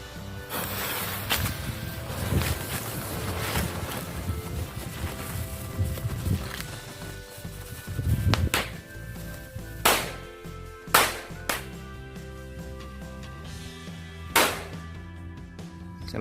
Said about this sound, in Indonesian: berikutnya kita nyalakan silver glittering Thor 2 bungkus langsung